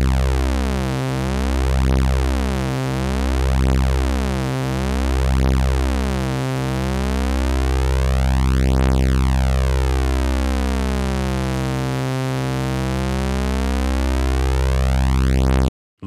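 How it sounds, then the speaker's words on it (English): Roland Jupiter 8 VST synth saw wave with oscillator 2 fine-tune slowly raised, a steady buzzing drone whose detuning beats speed up into a swirling, phasing shimmer, loud and alone. "So we're on the saw wave and let's go ahead and boost this fine tune slowly and see"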